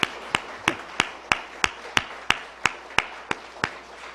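Applause at an evening church worship service, heard as a short run of separate, evenly spaced sharp claps, about three per second, fairly faint and with no talk over it.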